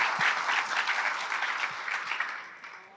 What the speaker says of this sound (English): I'll give a round of applause for all the hard work you've done